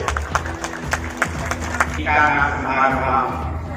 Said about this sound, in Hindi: महाराज जी के लिए जोरदार ताली होनी चाहिए